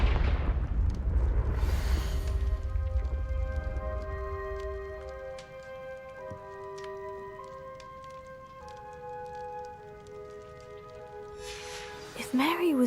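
A Confringo blasting spell goes off in the Hogwarts Legacy video game, a loud rumbling burst at the start that fades into a tonal musical drone, with a second sharp flare near the end.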